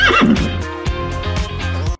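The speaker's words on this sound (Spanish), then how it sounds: "¡Caballos!" A horse in an animated cartoon neighs loudly and close, a long shrill whinny followed by snorting and repeated shaky bursts, with no talk.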